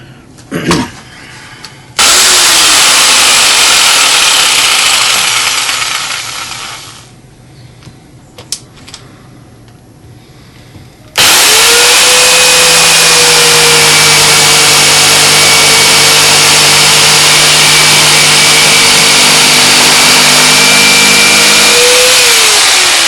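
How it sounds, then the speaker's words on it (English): A jigsaw cuts waste wood from a walnut blank with a loud, steady motor buzz that fades and drops out for a few seconds, then roars back in a long unbroken cut. "the first thing I'm going to use is a jigsaw just to take away the outside, all the outside shapes waste wood"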